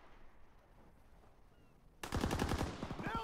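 Gunfire in a World War II PC video game: a quiet stretch gives way to a loud, rapid burst of automatic shots that continues to the end.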